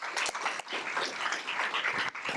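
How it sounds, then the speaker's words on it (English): Steady, dense applause fills a board meeting room, a continuous patter of many hands at moderate loudness with no voices standing out. "a round of applause for these ladies and gentlemen"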